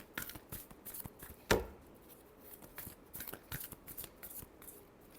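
Tarot cards are shuffled by hand close up, giving a quiet run of soft riffling flicks and taps with one sharper snap partway through.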